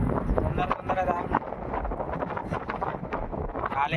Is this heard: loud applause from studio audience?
no